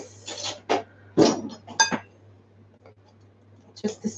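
A spoon mixing egg wash in a bowl, a few separate clinks and taps of metal against the dish with short quiet gaps between them, close by and moderately loud, with no talk.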